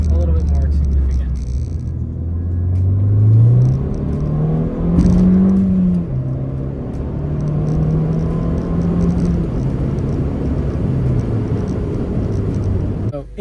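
Ford Fiesta ST fitted with a Cobb Accessport being driven, a loud steady engine drone from inside the cabin that rises and falls in pitch through gear changes, with a brief sharp knock partway through.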